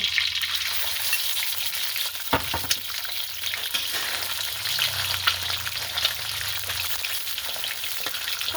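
Whole mackerel crackles and sizzles in a pan of hot oil, a dense, steady frying hiss from start to finish, with a few sharper pops and spatters along the way and no voices.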